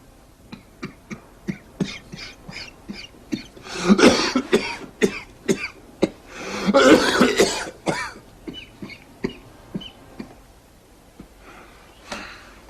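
A person coughs repeatedly in bursts, several harsh coughs clustered together with short breaths between, close and fairly loud, then a few sparse coughs trailing off.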